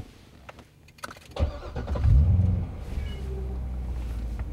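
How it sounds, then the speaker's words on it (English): A 2011 Chevrolet Corvette engine fires up and revs with a deep, loud exhaust roar, then settles into a steady throaty idle rumble close by. "Now you can listen up for the authentic Corvette exhaust note."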